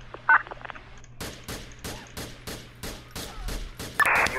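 Rapid bursts of gunfire in GTA IV during a police patrol shootout, sharp repeated shots at a steady rhythm, fairly loud, with a brief electronic beep near the start and end.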